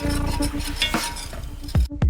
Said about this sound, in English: Add the gravy base and stir.